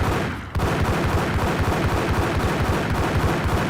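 Loud, dense gunfire in Max Payne 1, rapid overlapping shots rattling continuously after a brief opening gap, with no voices.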